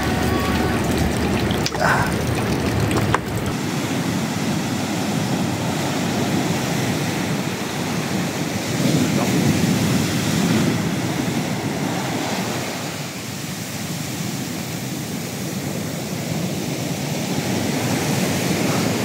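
Steady roar of large ocean waves crashing and churning, loud and continuous with surging swells, heard close with wind noise.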